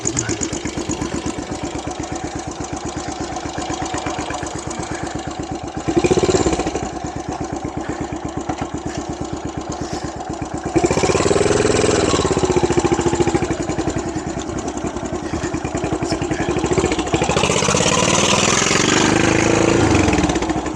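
A Yamaha SR500 motorcycle with a freshly fixed single-cylinder engine runs steadily, a loud, close, even thumping idle that rises in revs and grows louder a few times, with a brief speaking voice partway through.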